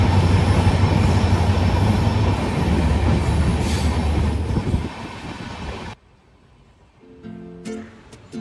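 A train from NJP toward New Mal rumbling through a tunnel, a loud continuous roar with squealing wheels that drops sharply near the end, leaving faint clicks and rattles.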